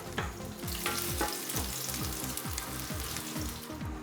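Chopped onions for a beef mince and pepper stir fry soften slowly in a pan over low heat, giving a steady close sizzle with repeated scraping stirs of a utensil across the pan, no talking.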